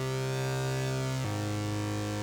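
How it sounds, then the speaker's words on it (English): A harsh, gritty synth lead fifth preset from the Xpand!2 plugin sustains a bright stacked chord, dropping to a lower pitch midway, loud and distorted throughout. "the other preset is this nasty fifth in the hard leads,"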